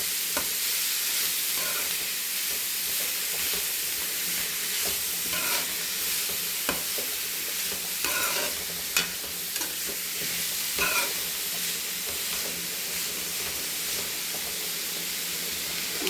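Carrots frying in a pan, a steady close sizzle and hiss throughout, broken by repeated scraping stirs of a spoon against the pan.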